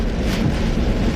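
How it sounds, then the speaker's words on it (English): Heavy rainstorm with strong wind buffeting a parked car, a dense low rumble and roar of wind and rain against the vehicle, loud and close, with no voice. "This rainstorm is, my lord, it's really coming down."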